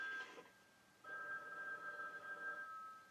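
A telephone on a TV show rings twice in quiet surroundings, a short burst followed by a longer ring, heard faintly with no talk over it.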